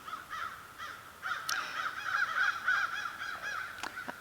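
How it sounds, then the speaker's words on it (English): A large flock of about fifty crows caws repeatedly in the open, overlapping harsh calls coming in bursts at moderate distance with no talking. "they're still coming. Crows everywhere. Probably 50. Can you hear them?"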